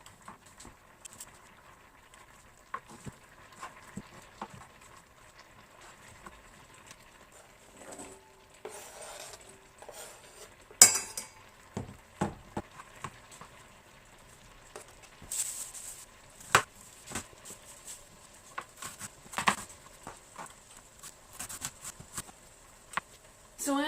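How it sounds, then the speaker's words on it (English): A knife chops a leftover onion into small pieces on a cutting board, producing scattered sharp taps and clusters of quick chops, fairly faint against quiet surroundings. "which I'm going to cut up and throw in there as well. So we're just going to chop it up in little pieces."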